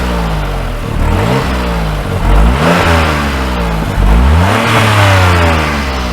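Idling car engine under the bonnet revved by hand-pulling the throttle cable: three loud surges, each climbing and falling back, close and continuous, with no speech.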